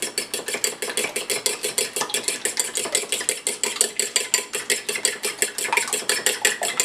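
Eggs for an omelet are whisked with a utensil against a bowl, making fast, rhythmic clinking taps that repeat steadily and close by without pause, with no talking.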